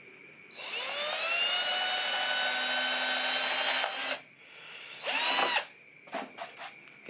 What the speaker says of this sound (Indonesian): kemudian kita bor.